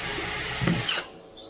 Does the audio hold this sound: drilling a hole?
yes